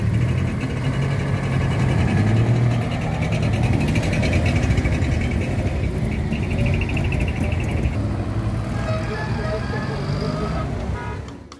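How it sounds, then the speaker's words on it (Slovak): Engines of historic vehicles from the Beskyd Rally 2024 convoy roar together as the column pulls away, a loud, steady, dense rumble with traffic noise lasting throughout and fading slightly at the end. "opäť zaburácali motory a kolóna historických vozidiel sa pohla smerom do Turzovky"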